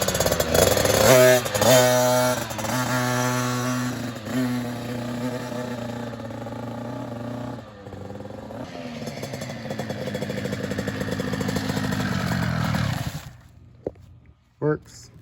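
A dirt bike engine in a garage sputters to life and revs loudly and raggedly up close, settling into a rough idle before cutting out near the end, with voices talking around it.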